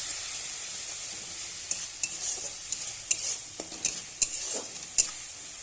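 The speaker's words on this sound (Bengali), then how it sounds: "এবার আমি ভালোভাবে কষাবো" Spices with salt, turmeric, coriander-cumin and chili powder frying in a pan for an egg and potato curry: a soft, steady hiss of oil with a string of sharp spoon taps and scrapes as it is stirred.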